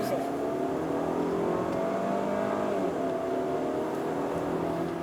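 A 2020 Range Rover Evoque driven in sport mode on a Malaysian test drive, a smooth, steady engine drone with rising pitch as it accelerates, heard from inside the cabin with people talking over it.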